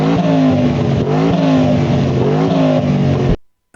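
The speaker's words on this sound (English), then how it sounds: "Matt, let's have a listen to your car with turbochargers and stuff." Turbocharged V8 in an Aston Martin Vantage revving hard, a loud, close engine roar that rises and falls through several blips over about three seconds before cutting off abruptly.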